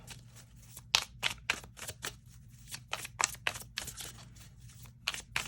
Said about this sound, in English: I need to do a little shuffling for pile 3.